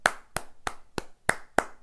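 Six separate hand claps ring out close and crisp at an even, unhurried pace, with no other sound between them.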